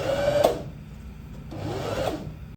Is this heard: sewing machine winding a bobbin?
yes